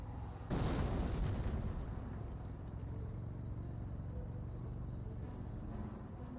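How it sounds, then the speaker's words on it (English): Auto cannon fire and explosions in the Company of Heroes strategy game: one loud, sudden blast is followed by a low, rumbling battle din that continues steadily at a moderate distance. "2-2's gain some auto cannon fire onto the rifleman"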